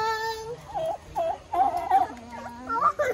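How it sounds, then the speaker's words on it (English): Farm chickens at a camp in Alfonso, Cavite calling during feeding time, with clucks and squawky warbling cries in several short bursts, fairly close and moderately loud. "Oh, throw food in the chicken."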